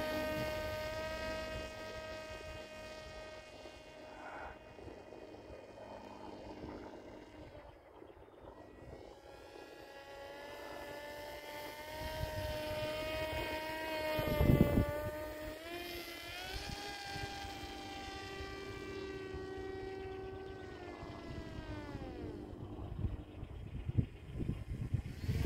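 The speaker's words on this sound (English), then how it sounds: "Those blades seem to be spinning okay" Rotor blades of a small RC autogyro spin up outdoors, giving a steady, moderately loud whirring hum with a thin motor whine that rises and shifts in pitch over the run, heard alone.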